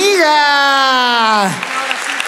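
A live audience at a Dreams Valdivia show bursts into applause as a sustained sung note fades, with the clapping rising for about a second at moderate loudness, mixed with crowd noise.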